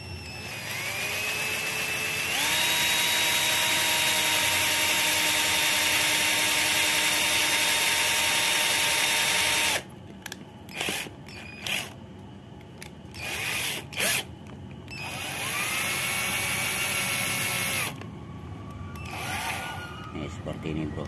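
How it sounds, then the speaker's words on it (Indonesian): A power drill whines at a steady high pitch, bores into wood to make a fishing float, with a rising strain, then cuts in and out in short stuttering bursts before revving again. "Nah, pertama kita bor dulu kayunya."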